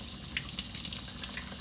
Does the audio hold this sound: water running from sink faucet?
yes